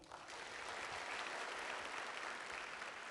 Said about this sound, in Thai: ขอเสียงปรบมือด้วยครับ